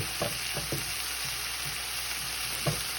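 Onion and mixed vegetables sautéing in a pan for a homemade chicken pot pie, a steady sizzle with a few soft utensil clacks and stirring knocks, close and alone without speech.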